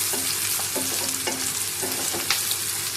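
Onions browning in a pan for Pakistani qeema karela give a steady close sizzle, with a few soft scrapes of a spoon stirring through it and no talk.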